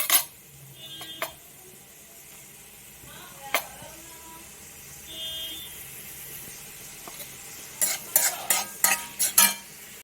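Prawn masala with green chillies stirred and fried in the oil left from frying the prawns, a continuous sizzle with scattered spoon scrapes and clatter that cluster near the end, while a voice talks faintly now and then.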